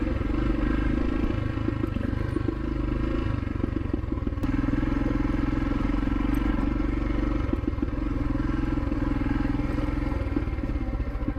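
Royal Enfield Himalayan motorcycle riding over uneven ground, its steady mid-pitched engine drone running loud and continuous throughout with light rattling clatter and no talk.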